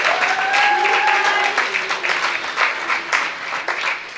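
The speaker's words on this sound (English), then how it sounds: "I'd like to take this opportunity to give Grant a round of applause" A crowd at the KZN Top Business Women event applauds Grant, loud sustained clapping that tapers off slightly toward the end, with some faint voices mixed in.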